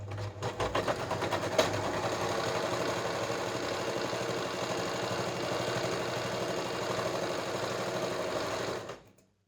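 A sewing machine runs steadily at close range, stitching the pocket of a pair of ladies' pants in one continuous whirring burst after a few short starts, then stops.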